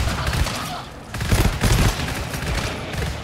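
Rapid bursts of gunfire in the co-op shooter game GTFO, loud and dense volleys of repeated shots with brief lulls between them.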